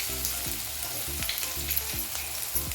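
Ginger, garlic and cumin paste with green chillies sautéing in a pan, a close, even sizzle under repeated faint tonal beeps in a steady rhythm; no voices.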